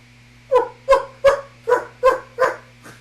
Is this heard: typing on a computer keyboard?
no